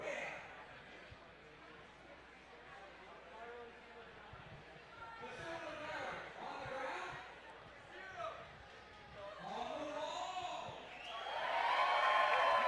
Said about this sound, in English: Crowd getting excited to see some speed climbing.